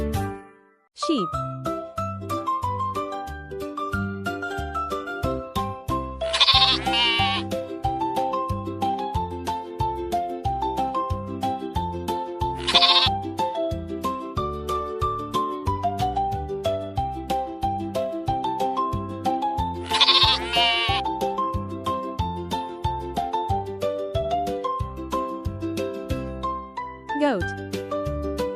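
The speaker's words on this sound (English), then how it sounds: "Sheep." Sheep bleat three times at spaced intervals, each a wavering, drawn-out call rising over gentle, continuous background music.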